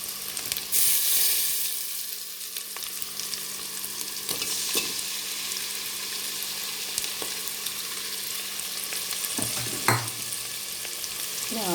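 Avakaya mango pickle fries with ginger-garlic paste in a pan for biryani, a continuous sizzle broken by occasional scraping stirs of a spoon, close and steady with no talking.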